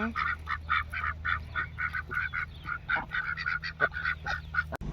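Domestic ducks resting in a farmyard give a rapid series of honking quacks, close and fairly loud, repeating throughout over a low steady background hum.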